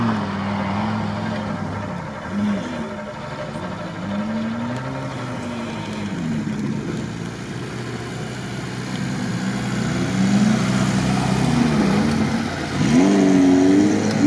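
Modified Lada Niva engine driving at a Niva club gathering, a steady drone rising and falling with shifts and revs that build louder toward the end, someone talking over it.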